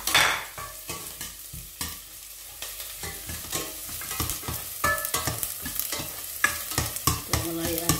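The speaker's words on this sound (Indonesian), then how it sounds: "Pertama-tama kita masukkan bawang bombay." Onion frying in a little cooking oil while being stirred: a steady close sizzle under repeated scraping and clinking strokes of a spoon against the pan, no talk.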